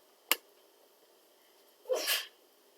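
A single sharp human sneeze: a quick intake followed by a burst of air, close and clear, in an otherwise quiet room.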